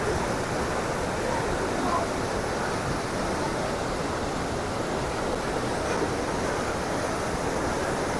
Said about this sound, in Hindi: ये पानी गुजर रहा है ये जा रही है चिनाब में